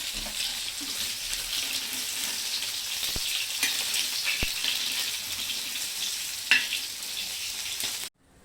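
Fish fried on both sides crackles and sizzles steadily in a pan, a dense hiss with a few sharp clicks and pops, close and even throughout before cutting off at the end.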